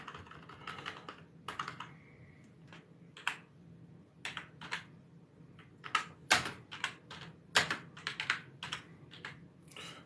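Fast, uneven typing on a computer keyboard, with clustered clicks and short pauses between bursts, close and fairly quiet in an otherwise still room.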